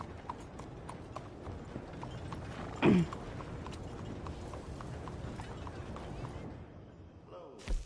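Horse hooves clip-clop at a steady walking rhythm in Red Dead Redemption II, close and moderately loud, with a brief louder thump and a faint snort near the middle.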